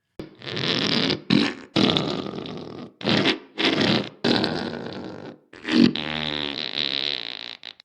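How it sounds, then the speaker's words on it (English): Fart noises from a guitar fart pedal come in a string of separate bursts, some short, some long and buzzy, with brief gaps between them and a longer wavering one at the end, all loud and close with no talking. "It's the fart pedal, and it makes fart noises."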